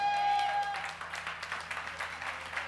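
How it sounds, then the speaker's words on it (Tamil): A church congregation at a Sunday service breaks into hand clapping after a brief moment, a fairly soft, distant patter of many hands that carries on steadily. "கைத்தட்டுங்க பார்க்கலாம்"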